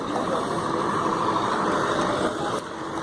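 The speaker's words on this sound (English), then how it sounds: "The vehicles are going." Vehicles driving along a flat road in Shimla, a steady close engine rumble and traffic drone that drops slightly near the end, no clear speech.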